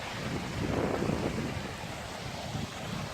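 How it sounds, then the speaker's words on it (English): A small babbling brook runs over rocks on a hillside path in Cheshire, a soft continuous rush of water with a gentle swell, faint and steady, with no voices. "Little babbling brook."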